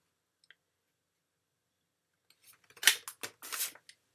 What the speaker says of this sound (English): So we've got our holes punched.